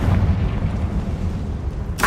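Confringo fire spell blast in Hogwarts Legacy, a heavy booming low rumble that fills the whole moment, close and loud, with a sharp crack bursting in at the very end.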